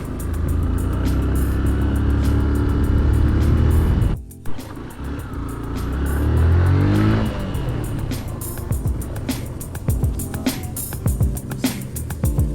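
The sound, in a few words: motorbike riding past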